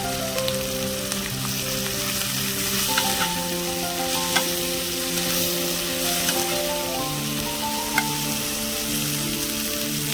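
Gongura leaves frying in a pan for a curry, a loud, steady rain-like sizzle with a few sharp stirring taps, close up, over light background music, with no talking.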